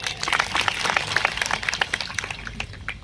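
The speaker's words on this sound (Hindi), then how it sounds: "ताली बजाई उनके लिए" Audience clapping for panchayats at a speech held in a sports complex in Dungarpur, with dense crackling applause running steadily across the whole stretch at a moderate distance.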